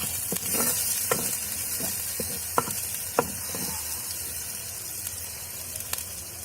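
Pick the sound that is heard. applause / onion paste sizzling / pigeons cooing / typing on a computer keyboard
onion paste sizzling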